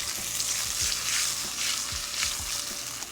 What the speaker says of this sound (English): heat up the wok again with canola oil. And put the carrot back into the pot